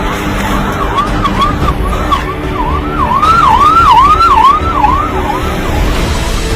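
An ambulance siren wails in a steady rising-and-falling cycle, loud and close, over a low rumble of traffic.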